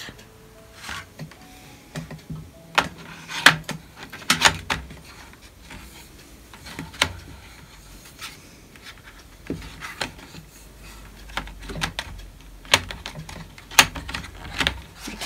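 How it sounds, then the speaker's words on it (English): Colored watercolor pencils are pulled out of a tray, giving scattered wooden clicks, rattles and rubbing knocks at close range in irregular bursts with quiet pauses between them. "Can be quite tricky getting pencils out of the tray."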